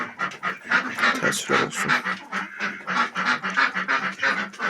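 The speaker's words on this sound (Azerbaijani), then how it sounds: "Ördəklər də daha özlərini cırırlar." Ducks in a poultry yard quack loudly and repeatedly in a rapid, raspy chorus close by, with a voice speaking briefly at the start.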